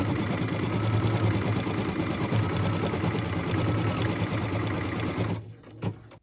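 A sewing machine stitches a placement line through felt for a Christmas ornament, a loud, continuous close buzz that stops near the end, followed by a couple of brief soft clicks.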